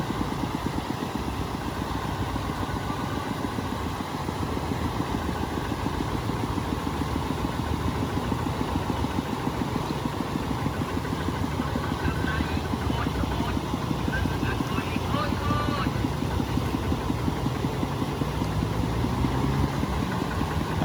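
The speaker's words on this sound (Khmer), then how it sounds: "ម៉ូតូ" A motorcycle crossing a road flooded by the Sangke river in Battambang province, its engine running steadily and close for the whole stretch over a constant wash of floodwater, with faint voices now and then.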